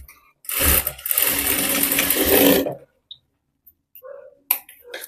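A sewing machine runs a continuous burst of firm stitching on a blouse, loud and close for about two seconds, then stops, leaving a few faint clicks and handling sounds.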